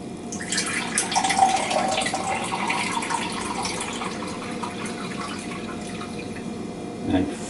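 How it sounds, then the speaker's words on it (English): Coffee streams into a container over a kitchen sink as a steady, close splashing pour that starts strong and tapers slightly, with a small knock near the end. "And we'll pour another 2 over the sink."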